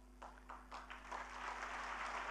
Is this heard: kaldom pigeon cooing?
no